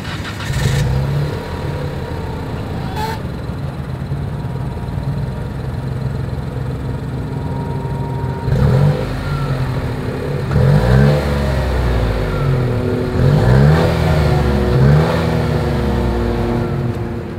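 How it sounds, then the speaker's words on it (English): A 2022 Nissan Rogue's exhaust idles steadily, then rises in several short revs in the second half, each climbing and falling back, heard close up with no talking. "As always, here is that exhaust clip."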